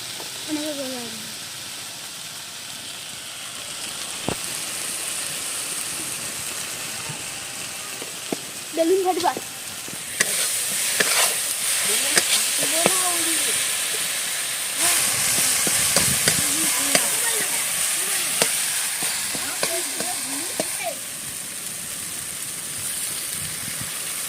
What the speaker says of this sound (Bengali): হলুদ গুঁড়ো দিয়ে আবার মশলাটা কষাবে।